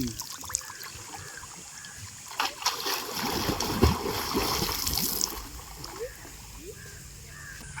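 Someone diving for mussels in a quarry pond: water splashes and trickles up close, building in the middle and then easing into quieter dribbling, with outdoor background noise and no clear speech.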